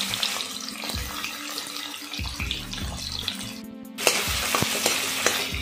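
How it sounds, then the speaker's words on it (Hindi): Paneer cubes drop into hot oil in a kadhai and fry with a steady, close sizzle, a brief louder burst of bubbling rising partway through, while a matar paneer dish is cooked at home. "तो हम इसमें अपने कटे हुए पनीर के क्यूब्स डालेंगे"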